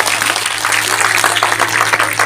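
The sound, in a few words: applause for the organizers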